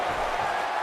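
Crowd noise from a WWE 2K16 wrestling video game match, a dense steady roar of the virtual arena audience on their feet, loud and continuous throughout with no clear breaks.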